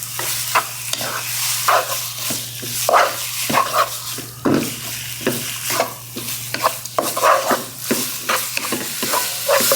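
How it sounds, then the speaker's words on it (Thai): Chicken stir-fried in a Teflon pan over medium heat: steady sizzling with repeated spatula scrapes and clacks in an uneven rhythm, close and fairly loud, with no talking. "รวนในกระทะเทฟลอนนะครับ"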